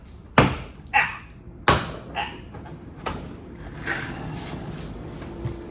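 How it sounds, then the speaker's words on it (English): A Subaru Impreza door panel is pried off with sharp clip pops and knocks, a few loud snaps followed by softer rattles and handling noises, close up. "let's remove door panel."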